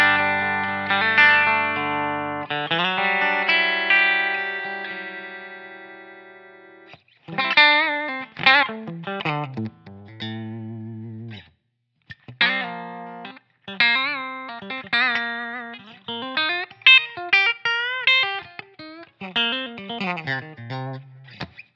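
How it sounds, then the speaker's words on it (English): Clean electric guitar on the bridge pickup of a Godin Summit fitted with Lawler El Rayo pickups, run through a Line 6 Helix WhoWatt 100 amp model; sustained chords open, then a bright picked melodic line with short pauses, played alone. "Here's a bridge pickup on my Godin Summit with Lawler El Rayo pickups"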